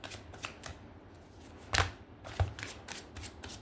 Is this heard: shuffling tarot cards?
yes